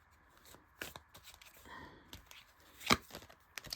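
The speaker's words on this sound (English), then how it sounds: "I just want to shuffle." Tarot cards being shuffled by hand, quiet close riffles and soft slaps in brief irregular bursts, with one sharper snap near the end, in a quiet room.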